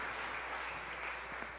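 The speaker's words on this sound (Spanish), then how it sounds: "Un aplauso" Faint, steady wash of applause from a distant church congregation at Mass, continuous and even throughout.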